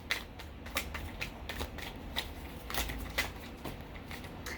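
Tarot cards being shuffled and drawn, a steady run of soft papery flicks and riffles with sharper snaps every half second or so, close and fairly quiet.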